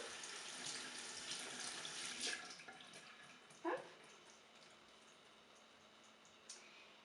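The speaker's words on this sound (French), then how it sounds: "pour préparer le fenouil, donc déjà il faut passer sous l'eau, hein. On va le rincer un petit peu" Tap water runs steadily as fennel is rinsed under it, a soft continuous hiss with a couple of brief splashes as the bulb is turned in the stream.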